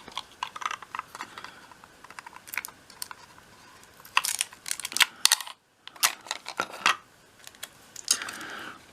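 Masking tape being torn and pressed onto a die-cast toy car, a Soviet taxi model being customised, giving close, dense crackly clicks and rustles in uneven bursts with a brief pause midway.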